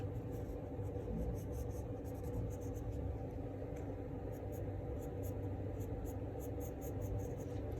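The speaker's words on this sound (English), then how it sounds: "all I'm gonna do is I'm gonna draw a curve" A pen drawing a curve on paper while graphing a quadratic function, heard as a close, steady scratching that runs unbroken for several seconds over a low room hum, with no talking.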